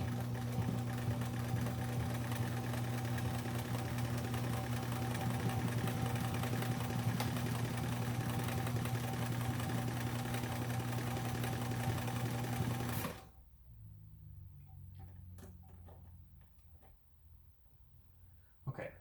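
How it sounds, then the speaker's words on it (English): A sewing machine stitches a bar tack on a zipper pouch, its rapid steady mechanical whir running loud and continuous for about thirteen seconds before stopping abruptly, leaving quiet handling noises. "I think I'm gonna go ahead and do like a bar tack on this as well."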